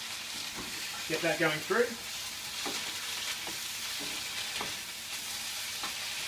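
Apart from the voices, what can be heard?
minced garlic frying in a pan with vegetables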